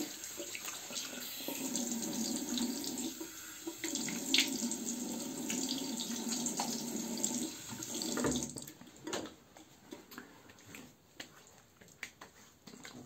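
A bathroom tap runs steadily at close range while a semi-slant safety razor is rinsed, the stream continuous for several seconds before breaking into scattered splashes and drips.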